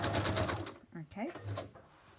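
A sewing machine makes a short, quick run of big stitches on a journal cover, with brief mechanical whirring at the start followed by a spoken voice.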